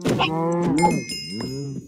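Minecraft cows moo in two drawn-out, nasal lows, one after the other, loud and close with no talk over them.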